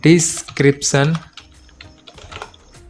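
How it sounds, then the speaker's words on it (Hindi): A computer keyboard clicks in quick, light taps as someone enters data into an Excel invoice, following a short stretch of someone talking. "अब मैं यहाँ पे क्लिक करूंगा और यहाँ पे टाइप कर देता हूँ मैं"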